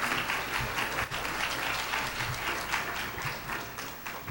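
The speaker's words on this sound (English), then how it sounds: "Please welcome to the podium with a round of applause." An audience at an interfaith iftar program gives a sustained round of applause, dense clapping filling the room at steady volume.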